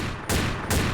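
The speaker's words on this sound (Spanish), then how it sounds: "4 gente disparándome al mismo tiempo." Gunfire in the online shooter Combat Arms Reloaded on the Ghost Town map: two loud, dense bursts of rapid shots, close and alone.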